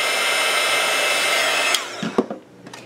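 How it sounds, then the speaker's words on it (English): A steady, loud rush of blowing air from a hot-air tool runs for nearly two seconds, then cuts off, leaving a few light knocks and clicks. "Be very careful if you're using a heat gun."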